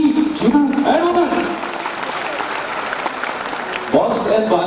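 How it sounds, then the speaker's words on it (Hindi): Audience in the balcony and boxes of a music show applauding together, a dense wash of clapping sustained throughout, with a voice and some vocal tones rising briefly at the start and near the end. "कल बालकनी और बॉक्स वालों की तालियां एक बार प्लीज एक साथ होनी चाहिए."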